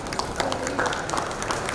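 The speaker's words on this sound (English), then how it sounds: "Big round of applause," Audience applause at a school education panel discussion on stage, a steady dense patter of clapping throughout, fairly distant and moderate in level with faint crowd murmur underneath.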